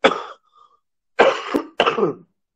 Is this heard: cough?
yes